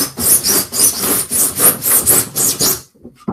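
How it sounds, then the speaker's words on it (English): A fine-toothed handsaw cuts through wood for a paddleboard build, about eight quick, close, rasping back-and-forth strokes in a steady rhythm before it stops. "Also got a finer tooth saw,"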